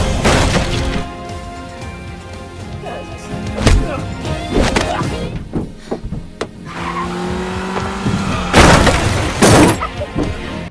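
A yellow car slams into people during a film scene: a loud engine and tire skids, with sharp impact and glass-shattering bursts near the start and again toward the end.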